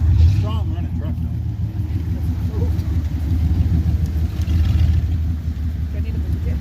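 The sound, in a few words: old GMC truck engine running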